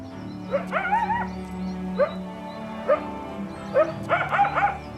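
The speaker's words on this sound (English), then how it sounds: "Jackals have their own yipping sound." Jackals yipping in the wild, a series of high, quavering yelps in several bursts, some short and single, others clustered and overlapping near the end, fairly close and clear with no talking.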